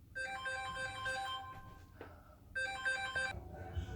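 A mobile phone ringtone rings during a home grooming session for a Yorkie, playing a bright repeating melodic pattern in two bursts with a short pause between, fairly close and clear.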